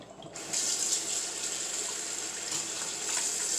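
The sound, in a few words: tap water filling a bowl to soak salted cod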